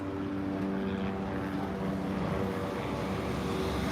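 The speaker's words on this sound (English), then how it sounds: "This chopper's been around past couple days." Helicopter with yellow and white livery flying overhead in a city street, a steady distant rotor and engine drone with a low throbbing hum, faint and continuous throughout with no talk.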